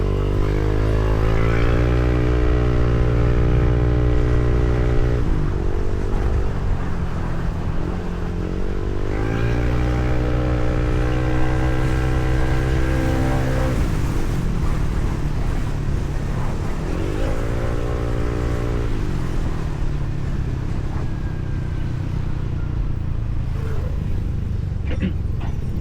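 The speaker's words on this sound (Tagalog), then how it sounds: "Parehas din naman ang tunog, kasi parehas na yata yung makina ng Aerox NMAX." A Yamaha Aerox 155 V3 scooter engine on a night ride, loud and close, drones and rises through several acceleration runs with rising whine between brief drops in pitch.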